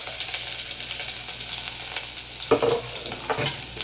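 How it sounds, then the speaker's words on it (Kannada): Chopped onions fry in a pan for a South Indian doddapatre sambar, giving a steady, close sizzle, then scraping stirs toward the end. "ಕಟ್ ಮಾಡ್ಕೊಂಡಿರೋ ಈರುಳ್ಳಿನ ಸೇರಿಸ್ಕೊಂಡೀಗ ಫ್ರೈ ಮಾಡ್ಕೊತಾ ಇದ್ದೀನಿ"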